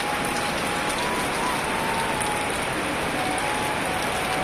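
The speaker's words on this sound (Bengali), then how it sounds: "বৃষ্টি একদম ভরপুর বৃষ্টি" Heavy rain pours down in a village, a dense, loud, continuous patter on surfaces with no breaks and no voices.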